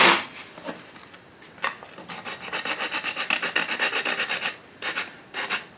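A coarse flat bastard file is worked by hand across a piece of high impact polystyrene plastic, making repeated rhythmic rasping strokes, close and fairly loud, in quick bursts with short pauses between.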